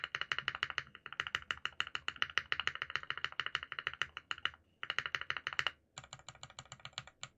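Rapid, steady typing on a Fox Lab Leaf 65 mechanical keyboard with foam dampening, a dense run of muted clacks that pauses briefly twice before resuming, close and fairly quiet.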